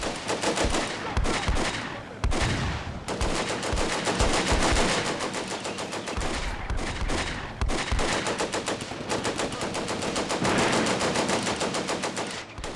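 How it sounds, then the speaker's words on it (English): Machine gun fire in the World War II strategy game Combat Mission: Beyond Overlord, at La Fiere: loud, sustained rattling bursts with brief pauses and some heavier impacts, continuing throughout with no talking over it. "the machine guns started opening up once again"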